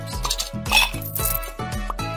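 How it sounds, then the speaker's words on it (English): Ice cubes drop one after another into a tropical drink, making a series of about four bright, clinking hits at a steady rhythm, close and clear with no talk. "And drop in some ice cubes."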